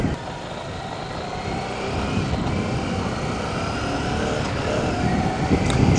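A Harley-Davidson Street 750 motorcycle engine drones loud and close on a demo ride near Burleson, Texas, holding a steady roar with wind rush as it shifts through gears.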